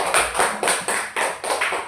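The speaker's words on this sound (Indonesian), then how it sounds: "Kita tepuk tangan untuk Irfan dulu." Classroom clapping for a student named Irfan, a steady rhythmic series of about seven sharp unison claps, close and clear, with no talk over it.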